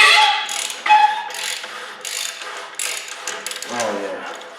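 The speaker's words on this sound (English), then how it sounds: "so I can get a ratchet on there and hopefully get it to break loose" A ratchet wrench clicks in bursts while working loose a stuck threaded pipe fitting on a flooded 8000-watt generator, rapid close ratcheting strokes with scraping metal and short pauses between turns.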